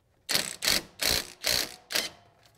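Five evenly spaced ratcheting bursts ring out as a wrench breaks nuts loose on a Ford F150 5.4 engine, each a quick, loud, clicking rasp; close and isolated, with no talking.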